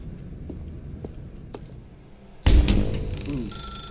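Telephone ringing in the video game The Stanley Parable, a sudden loud ring bursting in halfway through after a quiet stretch of faint clicks, then continuing alone.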